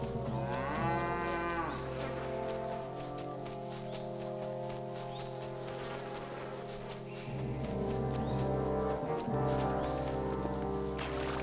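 Cattle in Kingdom Come: Deliverance II moo loudly and close, long drawn-out lowing calls repeating through the clip, with a steady game ambience beneath and no talking.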